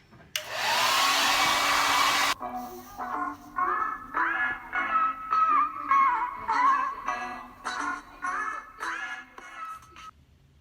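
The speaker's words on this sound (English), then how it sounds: "I'm gonna use my Revlon Pro Style Blow Dryer, and then I'm gonna turn it on warm and then high." A Revlon Pro Style hair dryer on high roars loudly for about two seconds, then cuts off abruptly, followed by a run of short, choppy tonal bursts.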